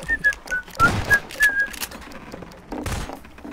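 A short melodic whistled tune of several clear notes in Garry's Mod Prop Hunt, followed by soft shuffling sounds.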